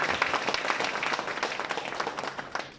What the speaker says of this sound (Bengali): স্যারের জন্য একটা জোরে করতালি হবে